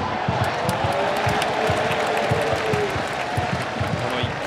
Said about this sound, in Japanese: この1球のストライクの歓声に今度は三塁側の慶応義塾大学のスタンドを沸き上がります